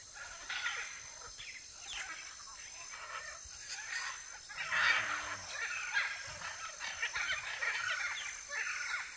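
Free-range chickens cluck on a farm in Brazil, a busy, mid-distance chorus of overlapping bird calls and honking with a louder burst midway, under outdoor ambience.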